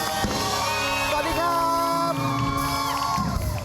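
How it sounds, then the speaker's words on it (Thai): A television studio audience cheering and whooping to welcome three judges on a singing competition show, a loud crowd roar with shouts over sustained musical tones throughout. "ขอเสียงปรบมือต้อนรับ กรรมการทั้ง 3 ท่านครับ"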